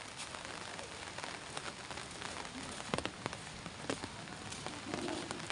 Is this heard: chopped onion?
no